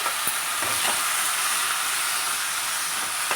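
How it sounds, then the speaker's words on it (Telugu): Gongura leaves and tomato pieces are stirred as they cook in a pan, giving a steady, loud, close sizzle with a few soft scraping stir sounds over it and no talking. "గోంగూర టమాటా ముక్కలు మగ్గేంత వరకు కలుపుకోవాలి"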